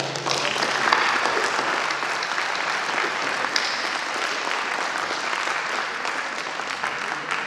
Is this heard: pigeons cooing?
no